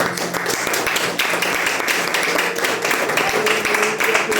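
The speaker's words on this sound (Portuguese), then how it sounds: "Vamos aplaudir Jesus com muita alegria" A church congregation claps together in steady rhythmic bursts, the sharp claps fairly close and lively, with a voice talking faintly underneath.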